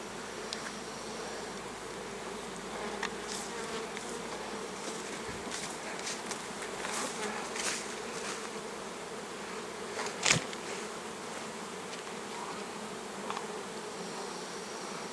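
Honeybees buzzing steadily at an apiary during a strong honey flow, a dense continuous hum from many insects close by, with occasional louder passes of individual bees and no talking.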